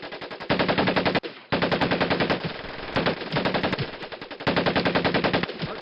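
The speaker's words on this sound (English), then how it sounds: "Take your time to aim and fire the weapon in short bursts only." Automatic weapon in Medal of Honor Pacific Assault firing repeated short bursts, loud and close, with brief pauses between the rapid volleys and no talking.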